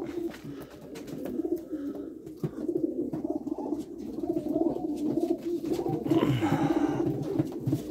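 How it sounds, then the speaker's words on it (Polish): Pigeons, Opal and Tiger Janssen-Vos racing birds, coo softly and repeatedly in a loft, with light shuffling and rustling around them. "piękne, postawne gołębie, jak tutaj widać"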